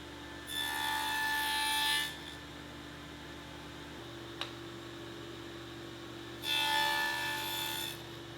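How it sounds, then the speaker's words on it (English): A table saw fitted with a stacked dado set cuts half lap joints, making two short rasping passes about four seconds apart over a low, steady motor hum. "So I set up my table saw with a stacked dado set blade"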